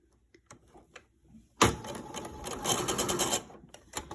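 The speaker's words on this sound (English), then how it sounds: "And you're just going to sew along the edge because we don't want it to show up when we sew it in finally." A sewing machine stitching along the edge of fabric for a chicken-shaped grocery bag holder starts with a sudden whir and runs steadily for about two seconds before stopping, preceded by faint handling clicks.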